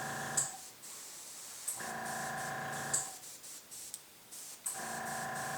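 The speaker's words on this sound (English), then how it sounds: "Spray my hand to make sure it's still coming out." Hairspray from an aerosol can hisses onto a hand while snow effects are built up for an Ardennes 1944 diorama, with several short close bursts separated by brief pauses.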